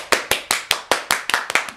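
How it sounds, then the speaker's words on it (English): Applause for a performer about to rap on a show: about nine sharp, close hand claps in a quick, steady rhythm, heard on their own with no talking. "give him a round of applause"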